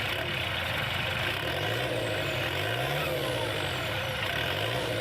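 A tractor hot rod engine runs steadily, a loud continuous mechanical drone with rising and falling low pitch sweeps as the revs shift, and no voices over it.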